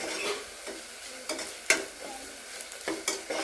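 Mustard seeds frying in a pan for a village-style rambutan pickle crackle and sizzle steadily, with scattered pops and a couple of metallic spoon scrapes against the pan, heard close with no talk.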